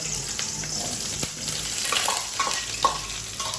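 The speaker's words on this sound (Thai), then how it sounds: "การทำหอมเจียวนะครับ ต้องใส่น้ำมันลงไปในกระทะ ตั้งให้ร้อน โอ้ นี่ครับเราลงไปเลยครับ" Sliced shallots dropped into hot oil in a pan, a loud continuous crackling sizzle close by, with bubbling hiss and a few sharp pops.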